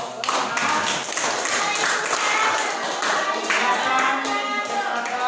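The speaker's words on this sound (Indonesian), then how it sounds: "Ya, kasih aplaus." Classroom applause during a school lesson on zakat, a group clapping steadily and fairly loudly for several seconds with quick, uneven hand slaps and some voices mixed in.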